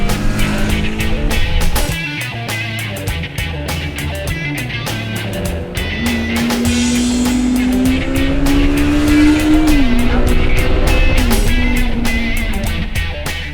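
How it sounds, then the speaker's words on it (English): Honda 500 Four motorcycle's four-cylinder engine revving hard, a high screaming tone climbing and holding through the gears, loud and steady with no talk over it. "The 500 Four's engine can be a little screamer."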